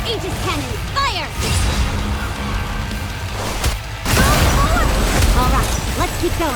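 Aegis cannon fire in the NIKKE video game lands as heavy booming blasts and crashing impacts, loud and close, with a burst of whooshing shots, mixed with game voices and music.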